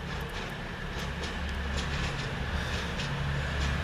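A cross-country passenger train from Newcastle arriving at Oxford station, a steady rumbling roll with faint clattering wheel noise held at an even level throughout.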